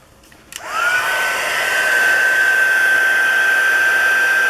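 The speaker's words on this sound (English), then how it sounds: "and then I'm just going to heat it with my heat tool" A handheld heat tool switches on with a click and settles into a steady, loud blowing whir with a high whine, heating gold embossing powder on a stamped craft project.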